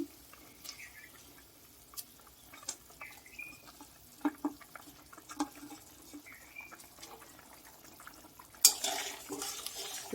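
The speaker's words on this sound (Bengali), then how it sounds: "ঝোলটা ফুটে গেছে দেখুন বন্ধুরা কি সুন্দর এবার আমি একে একে মাছ" Fish pieces, koi fish for a Bengali oil-rich curry, go one by one into boiling gravy: quiet bubbling and simmering with scattered soft clinks and splashes, and a louder sizzling burst near the end.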